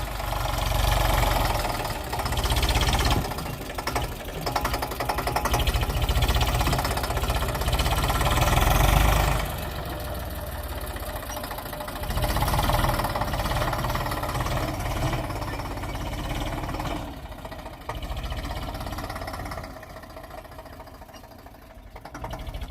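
A tractor engine keeps up a continuous rumbling drone during summer sowing work in a farm field, rising and easing in loudness, with no talk over it.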